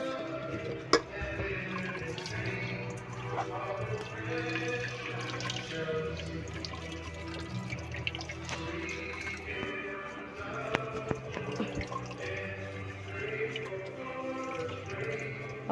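Tap water runs steadily while rice is washed in a home kitchen, a continuous splashing wash filling the whole stretch with a few brief clinks and splashes, no speech over it.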